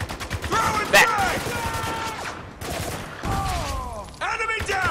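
Gunfire in the video game Spec Ops: The Line, bursts of rifle shots and a sharp loud crack amid battle noise, with game voices calling out over the shooting.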